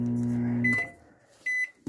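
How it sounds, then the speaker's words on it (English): A microwave oven hums, then gives two short electronic beeps as it is set, close and fairly quiet. "did you see on his microwave it said 300?"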